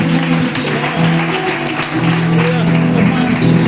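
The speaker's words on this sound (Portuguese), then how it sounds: "Aplauda o Senhor, louvado seja Deus." A church congregation claps during a worship service, steady applause mixed with sustained musical tones and voices speaking over it.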